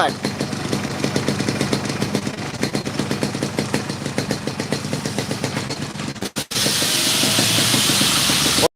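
A Yamaha RX-King motorcycle engine with a dry, leak-free block idles steadily with a rapid, putting rumble, close by, then a brief dropout followed by a loud hissing rush.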